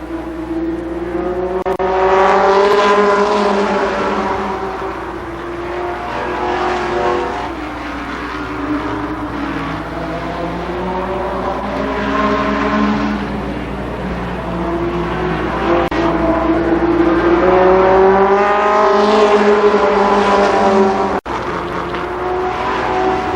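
A pack of stock race cars at Columbus Motor Speedway during a 1992 Firecracker Championship race, engines roaring loud and continuous, pitches rising and falling as cars pass.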